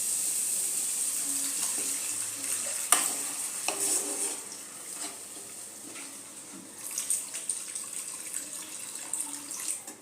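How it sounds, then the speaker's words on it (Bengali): Water poured into a simmering pan of Rajasthani papad curry, a steady hiss and bubbling sizzle with brief clinks of a utensil, close and moderately loud throughout. "জল দিয়ে দেব।"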